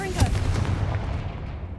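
Confringo fire spell explosion in the Hogwarts Legacy video game, a loud booming blast with a crackling rumbling decay lasting under two seconds, following a voice casting the spell.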